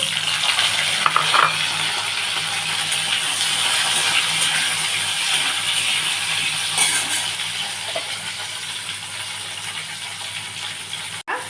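A steady, loud sizzle of mango pieces frying in hot oil in a wok fills the scene, with a few faint clinks of a utensil against the pan.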